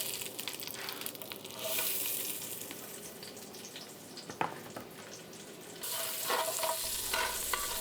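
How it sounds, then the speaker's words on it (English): Onions and garlic sautéing in a Dutch oven, a steady close sizzle with occasional scraping and stirring clatter, the frying noise swelling louder near the end, no talking. "we're going to saute some onions and some"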